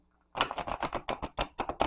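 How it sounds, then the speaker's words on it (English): A deck of tarot cards is riffle shuffled from the side, giving a quick run of sharp, close clicks and flutters that starts suddenly and lasts under two seconds. "let me see if I can riffle shuffle from the side"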